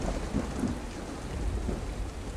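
Steady rain pours and low thunder rumbles in a video game storm from The Hometown mod, a dense continuous hiss with deep rolling booms underneath, fairly close and with no talking.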